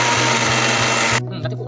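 A mixer grinder whirs loudly and steadily while grinding chillies, onion and garlic, running continuously for over a second before cutting off abruptly, leaving a quieter background with faint voices.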